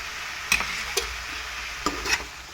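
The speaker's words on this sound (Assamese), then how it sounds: "এইখিনি এনেদৰে তলপৰ কৰি লৰাই দিম" Ginger-garlic paste stirred in a cooking pan for an Assamese fish curry, a few sharp scraping clicks against the pan over a soft steady sizzle, close and fairly quiet.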